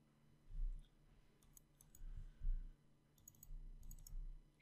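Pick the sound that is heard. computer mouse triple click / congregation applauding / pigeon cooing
computer mouse triple click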